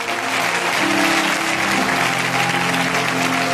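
A church congregation applauds steadily and loudly throughout, a dense wash of clapping with sustained tones from music or voices underneath.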